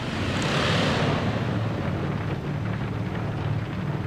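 A bomber aircraft takes off in Bomber Crew, giving a dense, steady roar of engines and rushing air that swells early and then holds at a constant level.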